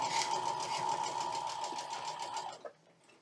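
Sewing machine stitching cotton fabric for a mini quilt, a steady close mechanical whir with rapid needle rhythm that runs continuously for about two and a half seconds, then stops abruptly with a small clunk into near silence.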